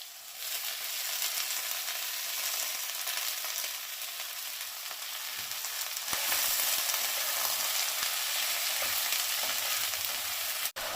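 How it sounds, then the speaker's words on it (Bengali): Spring onion greens tipped into a pan of already fried potato and eggplant, a loud continuous sizzle that swells as the greens go in, with stirring scrapes and a brief clatter near the end. "এবারে আমি কেটে ধুয়ে রাখা এই পেঁয়াজ শাকটা এর মধ্যে ঢেলে দেবো"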